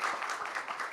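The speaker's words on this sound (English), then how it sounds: "Round of applause for all these brilliant people." Audience applause at a Mumbai gathering, a brief burst of clapping heard at moderate level with a fairly even texture.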